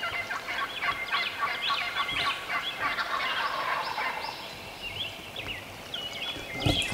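Wild turkeys gobble in repeated bursts, somewhat distant, over steady outdoor background noise with other birds chirping.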